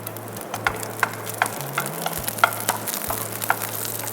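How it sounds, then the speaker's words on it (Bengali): Eight to ten whole garlic cloves fry in oil over lowered heat, giving a soft continuous sizzle dotted with small pops and crackles, close and steady with a low hum beneath. "আমরা যখন রসুনটা ভাজবো তখন চুলার আঁচটা একটু কমিয়ে রাখবো"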